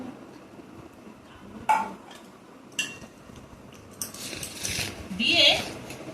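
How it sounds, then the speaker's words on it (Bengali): Cooked rice is tipped from a utensil into a pot of meat gravy for homemade biryani, giving a few soft clinks and scrapes and then a rushing, scattering pour near the end. "এই একটা ভাত আমি ঢেলে দিলাম"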